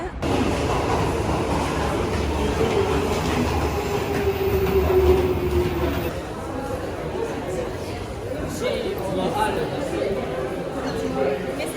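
A Japanese subway train rumbles and rattles steadily, with a brief rising whine, while people chatter in the background throughout.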